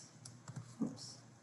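A few soft, scattered computer keyboard taps, quiet and brief, spaced irregularly across a short moment with no talking.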